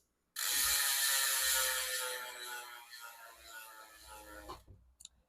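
A BMX bike's Primo Balance left-hand-drive cassette hub ratchet buzzes in a fast, continuous clicking whir as the wheel spins freely, slowly fading before stopping with a couple of final clicks.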